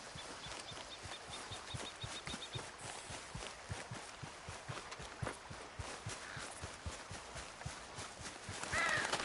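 A horse's hooves clip-clop at a steady walking rhythm in Red Dead Redemption 2, quiet but distinct, the repeated thuds running throughout with a brief whinny-like call near the end.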